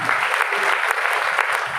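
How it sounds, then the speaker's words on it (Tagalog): Steady applause from a church congregation, dense and continuous throughout the short stretch, with a voice faintly present beneath the clapping. "Malakas sa palakpak para sa ating mahal na Panginoon."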